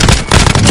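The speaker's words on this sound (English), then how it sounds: "Throwing frag grenade." A frag grenade explodes in Call of Duty Warzone on the Verdansk map, one loud, close, dense burst of blast noise filling the short moment.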